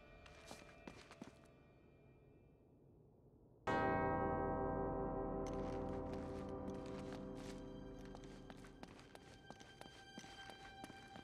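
A large bell rings out in a bell puzzle in Uncharted: Drake's Fortune, one loud struck tone that hangs and slowly decays, preceded by soft footsteps and followed by further taps and lighter clangs.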